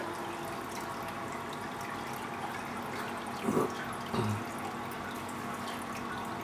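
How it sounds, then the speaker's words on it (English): Water from two overflows pours steadily into an aquarium sump fed by a high flow pump, a constant close rushing splash with a couple of brief gurgling bursts midway. "Got the overflows, both overflows flowing straight in."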